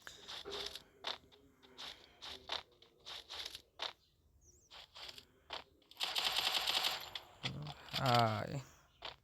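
UMP gunfire in a first-person shooter video game crackles in quick bursts of shots alongside excited commentary from a voice.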